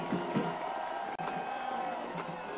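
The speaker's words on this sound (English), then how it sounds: "The crowd making noise." A stadium crowd at a high school football game makes steady, loud, roaring noise with scattered shouts and cheers throughout. A commentator's voice can faintly be heard underneath.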